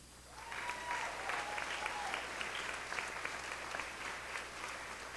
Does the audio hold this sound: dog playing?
no